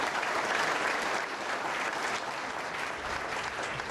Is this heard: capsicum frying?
no